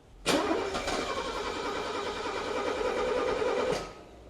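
Engine with Bosch K-Jetronic fuel injection cranking steadily without catching, a continuous churning starter drone for about three and a half seconds, close and loud, then stopping abruptly.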